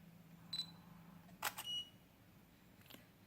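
An Olympus E-M5 camera shutter clicks sharply once at high shutter speed, with a brief high whine from a Godox TT350 flash charging nearby; otherwise quiet with a low hum.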